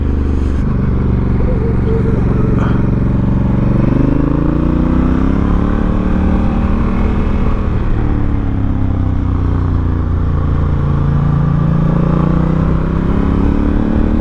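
An Africa Twin motorcycle on street tires rides off-road, its engine droning loud and close with rising and falling revs and clattering from the rough ground throughout.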